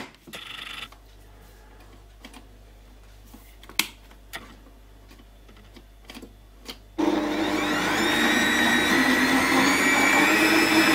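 A kneading machine starts mixing butter, sugar and almond powder for a Linzer torte: after several seconds of faint clicks and taps, a loud steady motor whir kicks in and runs continuously, close by, with no talk.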